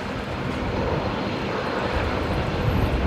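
A Fokker airliner at Brisbane Airport, pushed back on the apron before taxiing, gives a steady, loud engine roar that fills the air without break for a few seconds.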